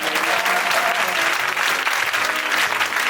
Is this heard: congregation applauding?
yes